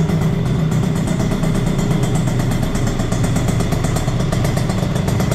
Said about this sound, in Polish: Piękny dźwięk tego wydechu.